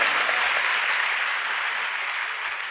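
A church congregation at a fasting prayer service claps together in a thick, sustained burst, loud and even throughout with a slight fade near the end and no voices over it.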